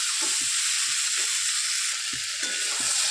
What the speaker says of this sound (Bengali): এবার আলুটা দিলাম দিয়ে একটুখানি কষিয়ে নিই